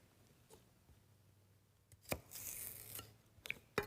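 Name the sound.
chopping celery with a knife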